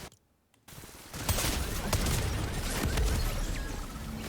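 Rapid minigun fire in a shooter video game, a dense, continuous burst of shots that starts abruptly after a short silence and rattles on loudly to the end.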